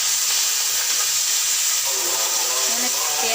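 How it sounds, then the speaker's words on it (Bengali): Onion paste going into hot oil sets off a steady, loud hissing sizzle that fills the whole stretch, with a faint voice murmuring underneath. "তেল গরম হয়ে গেছে, পেঁয়াজ বাটা দিয়ে দেবো।"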